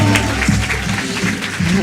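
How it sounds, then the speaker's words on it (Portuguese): An audience claps to welcome a speaker at an event, the applause loud and steady for a couple of seconds, with voices audible over it. "queria que vocês recebessem com muitas palmas e muita energia, Jéssica."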